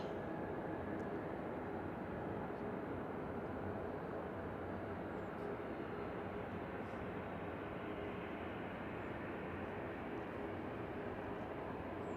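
Steady broadband roar of an airplane moving onto the runway, a continuous distant engine rumble with no distinct events, heard from afar on New Year's Eve at an airport.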